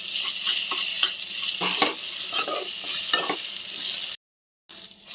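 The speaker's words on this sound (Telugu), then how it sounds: "ఇవన్నీ వేసుకొని మిక్స్ చేసేసుకుంటాను" Beetroot fry with salt, garam masala, ginger-garlic paste and chilli powder being stirred in a pan, giving a steady close sizzle with repeated scraping strokes before a brief cut-out and return.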